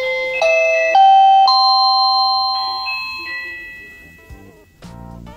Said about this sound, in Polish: Dzwonek działa.